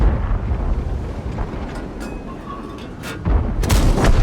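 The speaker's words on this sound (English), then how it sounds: "I am going to try and get a shot into him before he reloads." Chi-To SP, a tier 7 Japanese tank destroyer in a video game, fires its gun with a loud, deep boom near the end, following a long stretch of low rumbling engine and battlefield noise.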